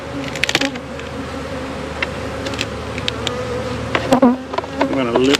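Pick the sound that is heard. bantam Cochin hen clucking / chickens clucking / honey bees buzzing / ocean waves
honey bees buzzing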